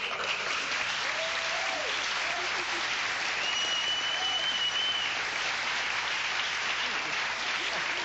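A 1989 television talk-show studio audience applauds the visiting Saturday Night Live cast, steady continuous clapping throughout, with faint voices and a brief cheer or whoop rising over it.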